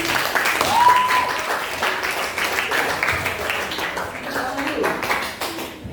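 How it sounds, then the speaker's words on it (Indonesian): A classroom full of students applauds with steady, fairly loud clapping that lasts throughout, with some voices murmuring underneath. "terima kasih, tepuk tangan"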